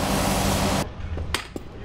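Carnival rides being assembled at a state fair, a loud burst of hissing noise stops abruptly, followed by a couple of sharp metallic taps and clinks over quieter background hum.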